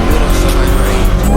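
A supercharged widebody Dodge Hellcat with no hood roars loudly and continuously as it revs and drives, engine note dense and steady with possible tire squeal, no talking.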